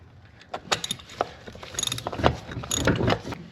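A ratchet with a swivel extension clicks in short repeated bursts while loosening spark plugs on a HEMI engine, a close, crisp mechanical ratcheting with uneven rhythm and no talk.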